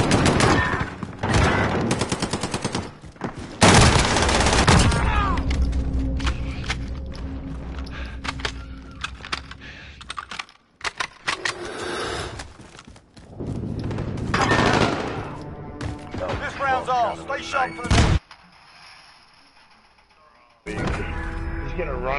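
Loud bursts of automatic gunfire and sharp single shots punctuate a Call of Duty search and destroy match, with players talking over the action and brief quiet gaps between exchanges.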